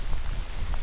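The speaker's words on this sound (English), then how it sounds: "it is absolutely pouring rain more than it has all day" Steady heavy rain pouring down during a thunderstorm along the Nipissing River, a dense continuous hiss with low rumble, loud and close with no voices.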